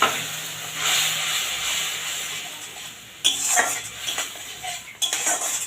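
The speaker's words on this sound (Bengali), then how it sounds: "মশলাগুলো দিয়ে একটু নেড়ে নেবো।" Spices and a ground mustard-poppy paste are stirred in a pan with a metal utensil, giving clinks and scrapes against the pan over a soft sizzle, with several sharper knocks near the end.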